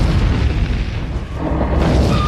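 An explosion in the 2016 film Deadpool tears apart a junkyard ship hideout, a loud, deep, rumbling boom with crumbling debris that fills the whole moment without any speech.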